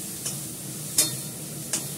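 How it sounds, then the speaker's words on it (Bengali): Onions frying in oil in a pan over low gas, a steady soft sizzle with three brief sharp scrapes of stirring spaced through it, close and fairly quiet with no talk. "এটা আমি ভালো করে পেঁয়াজটাকে ভেজে নেব"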